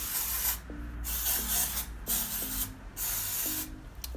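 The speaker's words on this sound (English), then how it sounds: "I'm just going to basically just spray mostly on my roots, just for it to absorb the oil" Repeated short bursts of aerosol hair spray hiss in quick succession onto hair roots, several sprays with brief pauses between, close and fairly quiet.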